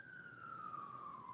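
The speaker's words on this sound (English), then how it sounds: "Pardon the background noise or the ambulance noise" Wailing emergency siren from an ambulance or police car, heard faintly in the background as a steady tone that slides gradually downward in pitch, with no talking over it.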